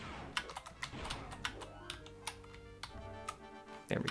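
Computer keyboard keys pressed while playing Dark Forces, the classic first-person shooter, in its Secret Base level: a quick series of sharp, close clicks and taps over steady game music, with no talking.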